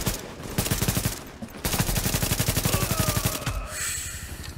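Rapid automatic gunfire in The Division video game, two long bursts of dense, rhythmic shots, loud and close, with a short gap between them and game sounds trailing after.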